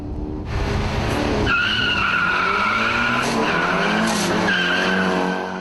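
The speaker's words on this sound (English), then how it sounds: "Darryl's Tirana bogs, then gets too much wheel spin" A Tirana and a Celica launching in a drag race, with the Tirana bogging and then spinning its wheels, a loud, sustained tire squeal over roaring engines that rises in pitch and holds for several seconds, close and with no talking.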